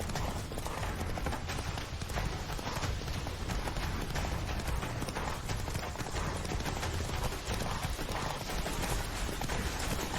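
The horse Roach gallops in The Witcher 3, rapid rhythmic hoofbeats drumming continuously and fairly close, dense and steady with no voices over it.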